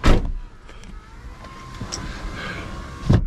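A car's power window whirs shut inside the vehicle at night on a highway, a steady faint motor hum between louder thumps at the start and end, with no talking.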